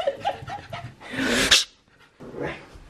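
A dog at night, quick breathy panting followed by a louder whining whimper and a softer whine, close and indoors.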